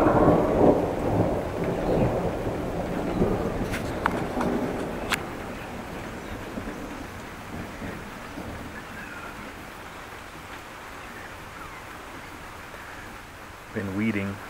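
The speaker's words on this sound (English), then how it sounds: "We have a little rain and thunder." A thunderstorm in Groningen with rain, opening on a strong rumble of thunder that slowly fades into a low, steady wash of rain, with a few brief clicks and a short burst of noise near the end.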